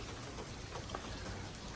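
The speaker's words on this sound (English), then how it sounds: "It won't stop raining. It's been raining nonstop." Heavy, nonstop city rain patters steadily on surfaces nearby, a dense continuous hiss of drops with no voices.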